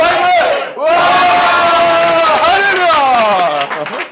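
A crowd at a Bible lecture gives a loud, sustained shout of cheering, rising and falling in unison, with some clapping underneath.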